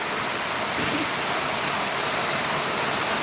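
Water pours down at a waterfall, a dense, steady broadband rush heard close and fairly loud with no talking.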